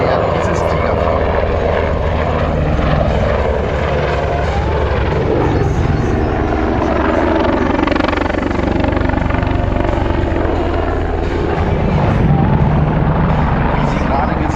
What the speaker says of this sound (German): kann der Tiger aus hoher Geschwindigkeit fast auf der Stelle drehen und sich in die andere Richtung weiter bewegen